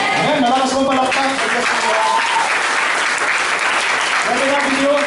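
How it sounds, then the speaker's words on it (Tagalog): A church congregation gives loud, sustained applause, thick and even throughout, with voices and a sung or spoken tone woven under the clapping. "Malakas mo palakpak."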